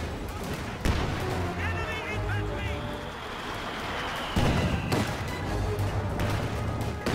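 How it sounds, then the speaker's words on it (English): Pack howitzer artillery fire in Company of Heroes 2, heavy booming impacts at intervals over constant battlefield rumble and scattered gunfire, with voices talking over much of it. "Here you can see the pack howitzer is doing a number on the middle position."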